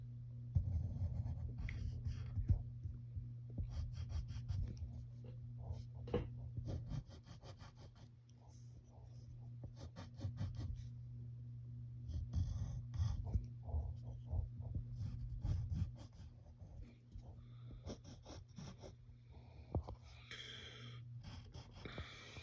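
A pen scratching on paper while Captain America is drawn, with faint, irregular strokes and short scribbling bursts over a low steady hum.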